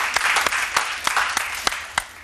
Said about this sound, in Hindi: बहुत अच्छी है, तालियां बजाएं।